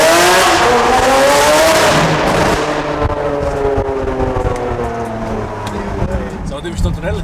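A Lamborghini with an aftermarket exhaust roars loudly inside a tunnel, its engine note rising and then easing into a lower, echoing drone, with people speaking over it toward the end.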